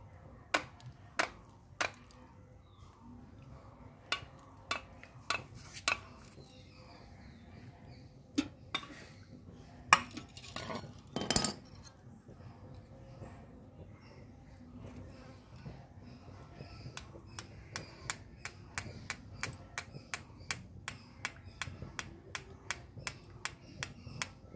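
Utensils clink and tap sharply while a homemade herbal hair dye mixture is strained. The clicks come scattered at first, with a short louder burst of handling in the middle, then settle into a steady, closely spaced run of light taps.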